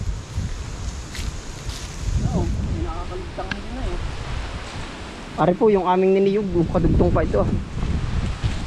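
Strong wind gusting outdoors through coconut palms in a Filipino orchard, a broad steady roar that runs the whole time beneath several people talking nearby.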